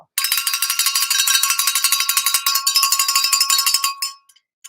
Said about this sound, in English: Here we go with this lovely, delicate bell.